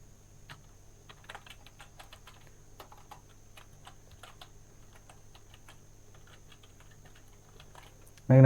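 Quick, irregular clicks of someone typing on a computer keyboard, fairly faint and close, over a quiet steady hum, ending in a sudden loud thump.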